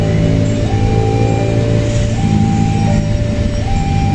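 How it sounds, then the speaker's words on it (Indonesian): A passenger train rolls past on an Indonesian railway on Independence Day, a loud, steady rumble of wheels and carriages with a sustained tonal hum that continues without a break. "Kereta api akan melintas dari arah barat ke arah timur."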